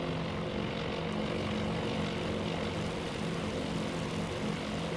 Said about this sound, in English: Let's check on the torpedo bombers, because they should be doing their approach now